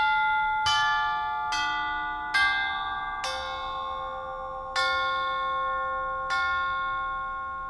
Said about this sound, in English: at the bottom it has a pedal that you mash, you press to allow the chime to vibrate